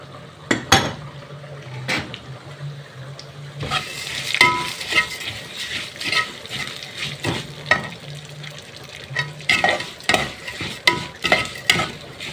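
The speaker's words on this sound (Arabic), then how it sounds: "حطيت معلقتين زيت ومعلقة سمنة، وابدأ احط الشعرية." Vermicelli frying in oil and ghee in a pot, a steady soft sizzle under frequent spoon scrapes and stirring clatter against the pan, close and fairly loud, with no talking.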